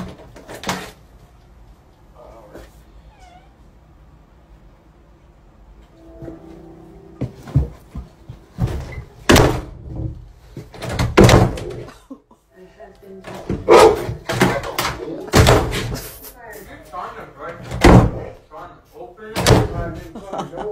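Loud, sharp door slams, pushed shut by a dog from inside a room, strike repeatedly in the second half, several close bangs with short gaps, over softer knocks and rattling at the door and a person talking.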